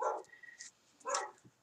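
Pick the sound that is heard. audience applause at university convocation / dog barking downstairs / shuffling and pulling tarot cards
dog barking downstairs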